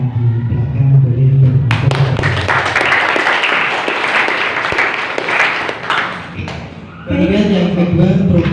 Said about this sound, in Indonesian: Silakan tepuk tangan dari para teman-teman di belakang boleh